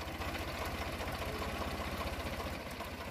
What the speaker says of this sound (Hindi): ट्रैक्टर को स्टार्ट करके टेस्ट कर रहा है